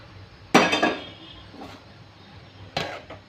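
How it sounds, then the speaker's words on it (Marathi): Metal kadhai set down on a kitchen stove, a sharp clank followed by a short rattle, then a quieter knock and another clank a couple of seconds later, close and alone. "कढई ठेवून घेऊया."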